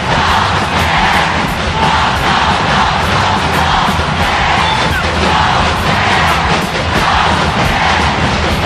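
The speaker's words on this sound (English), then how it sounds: "Listen to this crowd." Dense, loud roaring and yelling from a volleyball arena crowd fills every moment, a constant wall of cheering with shouts surging throughout.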